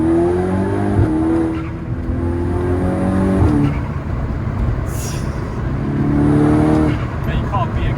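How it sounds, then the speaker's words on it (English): A 350bhp VW Golf GTI with a stock K04 turbo pulls hard in first gear, its engine note climbing loudly and continuously from inside the car, with a brief shift break midway. "should we get that first gear, Paul? What you reckon? Yeah, go for it. First gear"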